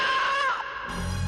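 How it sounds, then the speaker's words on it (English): A ghostly shriek in an old castle left empty since 1688: a high, wavering wail that bends downward over about half a second, then gives way to a low, rumbling hum. "Ghostly shrieks are heard"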